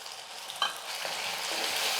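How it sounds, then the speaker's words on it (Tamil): Ground tomato paste frying in oil with garlic and onion, a soft continuous sizzle that swells slightly after an early stir. "தக்காளி வந்து ஒரு ரெண்டு நிமிஷத்துக்கு வந்து எண்ணெயில் நல்லா வதங்கட்டும்"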